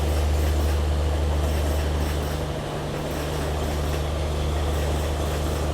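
A Mumbai local suburban train rolls through a station, a steady loud rumble with low humming tones throughout, easing briefly midway before continuing.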